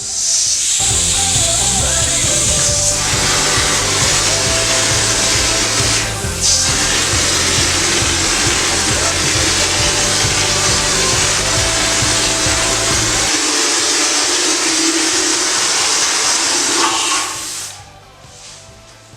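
A sprayer with a number 2 nozzle blows textured coating onto a wall. It gives a loud, steady hiss with a low rumble that lasts about seventeen seconds, then cuts off abruptly.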